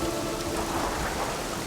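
Steady rain pours continuously, a dense even hiss of drops with no breaks and no voices.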